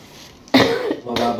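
A person coughs twice, two close, sharp bursts following a quiet moment.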